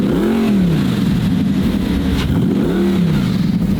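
A Lamborghini engine revs hard twice, each blip rising and falling in pitch, loud and close with a steady idle rumble between the revs.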